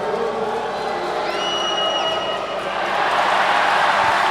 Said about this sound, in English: Oh, the crowd here in Gorkert Jaya just loving this sort of action.